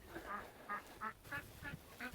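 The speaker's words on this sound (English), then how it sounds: "You hear the ducks, Aaen?" Farm ducks quack in a quick series of about six or seven nasal calls, close and fairly clear against quiet surroundings.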